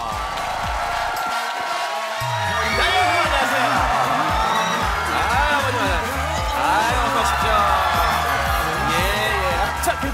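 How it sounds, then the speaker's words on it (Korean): Studio audience on a Korean comedy stage show cheers and whoops as three guests are welcomed onto the stage. The crowd noise is loud and continuous, mixed with music throughout. "뜨거운 박수로 환영해 주십시오"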